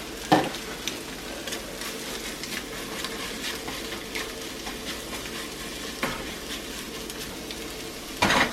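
Kielbasa, three bacon strips and a couple of eggs fry for breakfast, giving a steady soft sizzle with a few louder clicks and scrapes of stirring.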